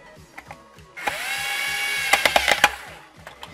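A power drill drives a third screw into a wooden board, whirring steadily for about two seconds with a rising pitch, then a few sharp stuttering bursts as the screw seats, after faint clicks and handling knocks.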